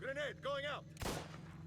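Gunfire in the video game Mafia Definitive Edition: after two short wavering tonal sounds, a single sharp, loud shot bursts out and trails off into a rumbling decay.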